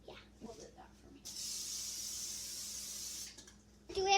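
Cooking spray hisses from a can into a tiny baking pan for peppermint brownie parfaits, one steady burst of about two seconds, close and fairly loud, with brief voices just before and after.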